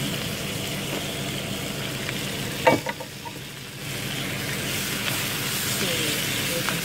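Spinach and baby kale frying in a pan, with a steady broadband sizzle running throughout, broken by a brief clatter of stirring and a short dip before the hiss resumes at an even level.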